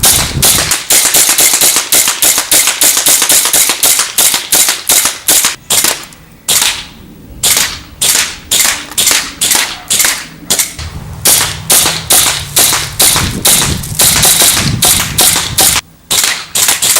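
A WE 7-inch Xcellerator Dragon airsoft pistol fires at a target, loud sharp cracks in a rapid steady string with a few brief pauses, each shot snapping cleanly close by.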